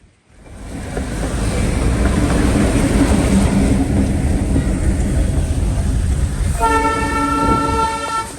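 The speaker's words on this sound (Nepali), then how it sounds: "यो ट्रेन सिलगढी गएको हो।" A two-carriage train heading for Siliguri on the Darjeeling line rumbles loudly and steadily close by, and near the end a long, harmonic horn blast sounds.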